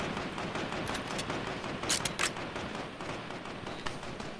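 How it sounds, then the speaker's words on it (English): Rapid bursts of gunfire in the Fortnite video game crackle in quick clusters, with a sharper, louder volley near the middle, heard alone without talk. "I hear shots."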